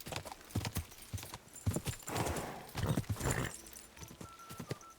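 Horse hooves clip-clop in a brisk, uneven trot in the medieval game Kingdom Come: Deliverance 2, close and clear, with snorting breaths and light ambient noise around them.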